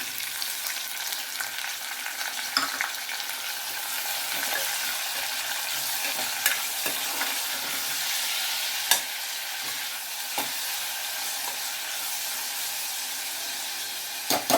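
Chopped tomato pieces frying in a pan for egg kurma, a constant hissing sizzle with scattered crackles and stirring clicks, close up and uninterrupted by speech.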